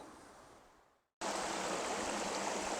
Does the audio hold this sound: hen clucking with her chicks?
no